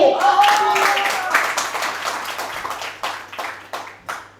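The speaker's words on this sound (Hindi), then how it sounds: "उस हिसाब से तालियां कम थी।" Audience applause breaks out at a Hindi poetry recital, a burst of many hands clapping that thins into scattered individual claps as it fades, with voices mixed in.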